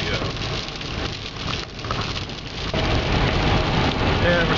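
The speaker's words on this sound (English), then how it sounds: "the rain's coming down, and we've got a ways to go" Heavy rain drums steadily on a moving car, a dense, loud wash of drops on the roof and windshield that swells slightly toward the end with no talk.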